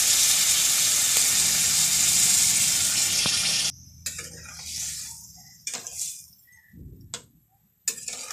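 Water poured into a pan of sizzling bottle gourd and prawn curry: loud hissing frying at first, then it cuts off abruptly into quieter bubbling with scattered ticks and sharp spoon knocks.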